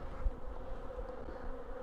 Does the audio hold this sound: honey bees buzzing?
yes